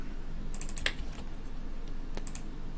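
Typing on a cramped, poor-quality computer keyboard while modding Minecraft: scattered clicky keystrokes with a couple of quick bursts, close and fairly quiet, no talking.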